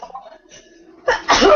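A single sharp human sneeze bursts out near the end, preceded by quiet murmuring and faint background sounds.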